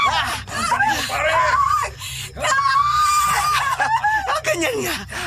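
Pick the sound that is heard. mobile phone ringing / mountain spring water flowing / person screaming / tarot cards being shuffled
person screaming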